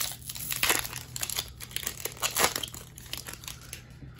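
Foil football card packs from a 2020 NFL Chronicles blaster and hanger box are ripped open one after another, with close, crisp crinkling and tearing in irregular bursts and no voices.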